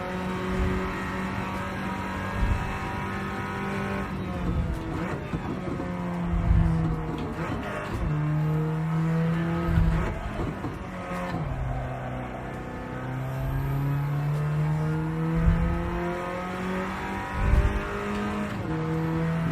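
A race car engine in Gran Turismo 7, revving up through the gears again and again with shifts and tire noise, steady and close, with no voices.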